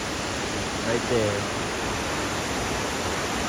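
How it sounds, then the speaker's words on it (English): A big waterfall on a backpacking trail roars as a loud, steady broadband rush that fills the whole scene, while someone speaks briefly and is nearly drowned out. "just to give you a perspective on how big this waterfall is"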